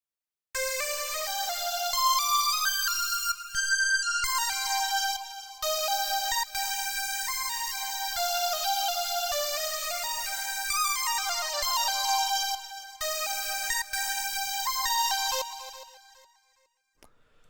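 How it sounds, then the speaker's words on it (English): Synth lead from the Ribbon Your Head Off preset in a 90s R&B beat, a bright buzzy melodic pattern of sustained and gliding notes with some bending runs, steady and fairly loud, alone, fading out at the end. "This preset is called Ribbon Your Head Off from Try and Extreme"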